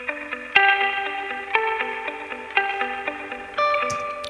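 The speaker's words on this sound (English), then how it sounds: "How do the ARPs sound through this AM radio?" Synth arpeggios played through an AM radio amp effect, bright repeating note patterns with a thin, band-limited tone and slight distortion, phrases restarting about once a second.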